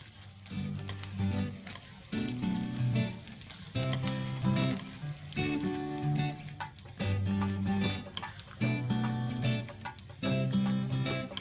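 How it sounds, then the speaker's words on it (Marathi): Edible gum (dink) frying in ghee in small batches for winter ladoos, a steady bubbling sizzle that swells and eases in repeated waves, close and fairly loud with no talking. "आता आपण डिंक तळून घेऊया"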